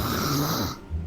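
A voice mimics a man snoring, delivering one rough, rattling inhale-like snore that cuts off abruptly, close and moderately loud.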